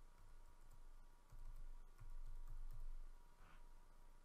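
Fingers tap out a password on a computer keyboard, a quiet run of light key clicks in short bursts against a faint room hum, with no one talking.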